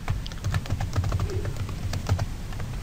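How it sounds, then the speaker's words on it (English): Someone types a password on a computer keyboard, a quick, irregular run of soft key clicks and taps, close up, with no voices. "I type a standard password that meets my domain password policy complexity"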